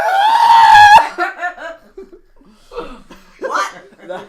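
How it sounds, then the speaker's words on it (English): A harsh, drawn-out goat scream rings out loud for about a second, then breaks off into laughter and chatter from several people. "The hellish goat scream."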